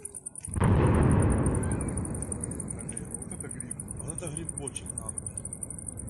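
Distant explosions across open countryside, a sudden deep rumbling boom that swells and slowly rolls away, followed by lower, uneven rumbling under a steady high-pitched whine.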